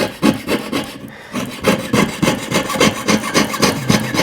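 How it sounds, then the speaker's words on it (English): Rapid rhythmic sawing strokes rasp through silver, loud and close, with a short pause about a second in before steady cutting resumes. "But that was not the best sawing"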